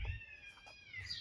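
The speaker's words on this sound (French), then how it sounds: "il y a des chats qui font la fête" A cat's faint, drawn-out meow from a rainy vegetable garden, a single wavering cry at a distance with soft outdoor background.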